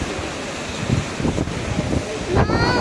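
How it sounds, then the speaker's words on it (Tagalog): Strong typhoon wind gusting at a shopping mall, a loud, steady roar with heavy buffeting against the microphone throughout, swelling again near the end, with no talking. "Ang lakas ng hangin."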